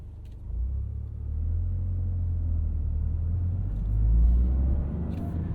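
A 2026 Toyota GR Corolla 300 hp hatchback cruising through city traffic, heard from inside as a steady low engine and road rumble that swells slightly partway through, with no one talking.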